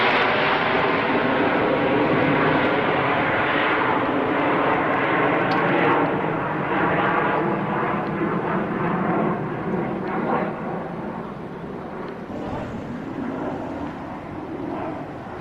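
Aircraft at an air show in June 1997 make a loud, sustained engine roar that fills the whole clip and fades a little toward the end, with a broad rumbling wash and no clear speech.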